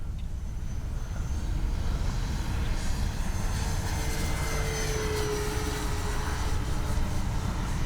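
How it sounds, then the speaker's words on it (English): A Durafly T-28 Trojan RC model airplane with an 1100 mm wingspan cruises at about three-quarter throttle, its electric motor droning steadily and fairly loud over wind and outdoor rumble, the pitch shifting slightly as it passes. "Good looking plane. Cruising around about 3/4 throttle most of this time so far."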